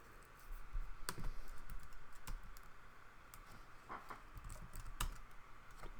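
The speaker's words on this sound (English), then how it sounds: "I type enter." Typing on a computer keyboard: faint, irregular key clicks with a few sharper, louder keystrokes scattered throughout, no voices.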